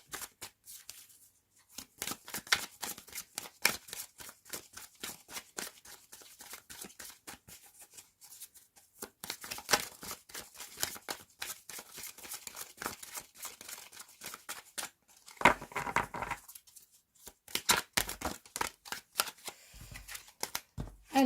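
Tarot cards being shuffled by hand, quick papery riffles and soft slaps in bursts with short pauses, close and fairly quiet, alone without talk.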